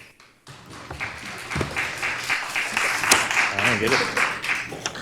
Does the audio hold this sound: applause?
yes